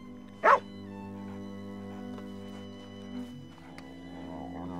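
In Red Dead Redemption 2, a Border Collie lets out a single short bark early on over a steady low game ambience, followed by quieter whimpering sounds later.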